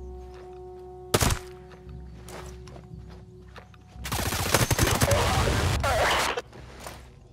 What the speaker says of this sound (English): Sweet shot, Ghost Lead.